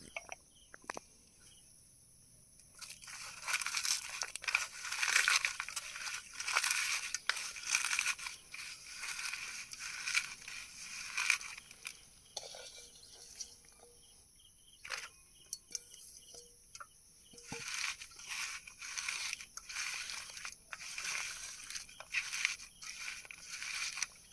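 Boiled yam is mashed and squeezed by hand, with soft wet squishing and crushing in bursts and pauses, close and fairly quiet, with no talk.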